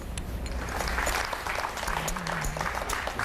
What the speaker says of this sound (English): I don't deserve any applause for that.